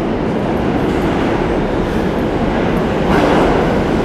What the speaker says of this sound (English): Let's get near the front of the train here.